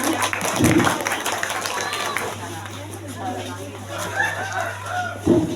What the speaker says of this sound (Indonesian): Sekali lagi kita beri tepuk tangan untuk Ananda semua.